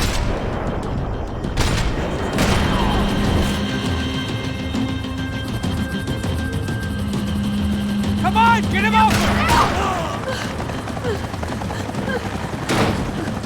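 Gunfire in the Max Payne 3 video game, bursts of shots and booms mixed with engine noise and a musical score, with characters shouting over the action.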